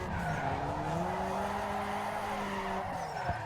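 A front-wheel drive car spins in donuts in Need for Speed Underground 2. Its tires give a long, continuous squeal that wavers in pitch over the steady engine drone, then breaks off near the end.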